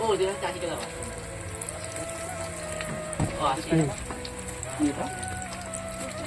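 Onion fritters (peyaji) fry in hot oil at a roadside snack stall, a steady crackling sizzle with clinks and handling noises, close up, under background chatter and street noise.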